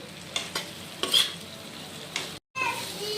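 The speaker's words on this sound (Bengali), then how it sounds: "লবণ দিয়েই আমি বেগুনটা পুরো ভেজে নেব।" Salted eggplant pieces fry in oil in a pan with a continuous close sizzle, broken by several clattering spatula stirs and a brief dead-silent cut near the end.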